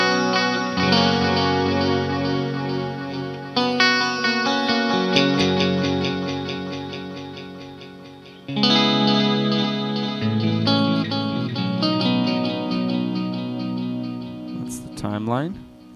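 An electric guitar runs through the modulation setting of a Strymon Timeline delay pedal, producing lush chorus-like wavering chords that ring out and swell in several strummed phrases, ending with a sweeping pitch-bent flourish.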